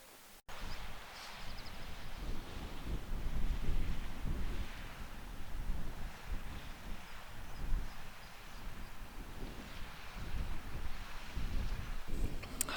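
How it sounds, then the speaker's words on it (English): Wind gusts outdoors on a hillside near a mountain bothy, a rushing, buffeting roar that swells and eases against the microphone, fairly close and continuous, with no voices. "the wind is really picking up now"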